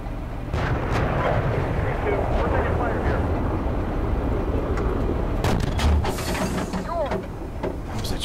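Tank gun firing in the simulator Steel Beasts Pro PE, heavy booming blasts with rumbling echoes amid continuous engine and battle noise, under radio-style crew talk.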